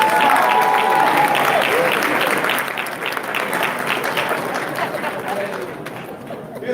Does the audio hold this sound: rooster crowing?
no